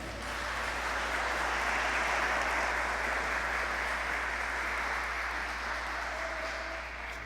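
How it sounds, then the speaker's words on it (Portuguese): A church congregation applauds together, a broad, even wash of clapping that rises quickly and holds steady for around seven seconds before easing slightly, heard from a middle distance. "Dê uma salva de palmas para Ele."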